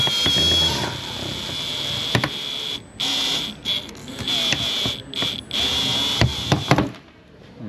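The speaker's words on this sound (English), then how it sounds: "I'll let this keep doing this little sawing motion." A wire saws through urethane adhesive to free the quarter glass of a 2018 Lexus RX350, giving a sharp, high squeal in repeated back-and-forth strokes with short breaks, then falling quiet at the end.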